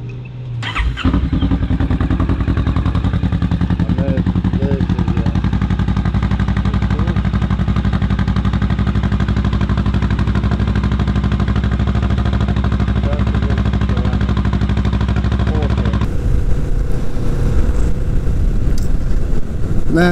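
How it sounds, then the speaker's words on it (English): Kawasaki Vulcan S motorcycle starting up and then idling steadily for a warm-up, a loud, close, even engine rumble that steps up in intensity near the end. "I'm about to start her up and warm up the engine"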